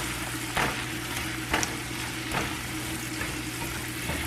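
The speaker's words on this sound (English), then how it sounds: "Now, you want to stir that around." Cornbread stuffing mixture stirred in a pan, a steady low sizzling hiss with a few scraping strokes of the spoon at intervals, close and without talk.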